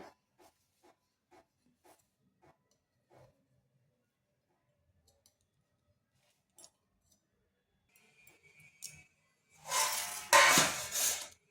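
A knife runs around the edge of a plate of cooled semolina snack mixture. A few faint light taps are followed by a short, loud, close rasping scrape near the end.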